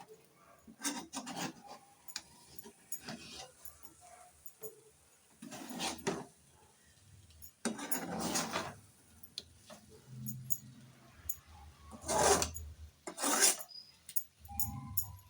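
Egg podimas is stirred lightly in a pan, giving sparse, irregular scrapes and taps of a spatula against the pan, close but fairly quiet, with short pauses between strokes.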